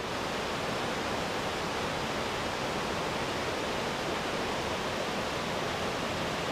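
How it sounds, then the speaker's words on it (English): Steady, dense roar of a waterfall on the East Lyn river on Exmoor, a continuous broadband rush with no breaks or voices. "No doubt you can hear the noise of this waterfall."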